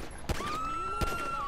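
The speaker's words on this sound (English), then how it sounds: "I was shooting at the target" Two sharp gunshots from Grand Theft Auto V, spaced under a second apart, sound against a steady background with a rising whistling tone between them.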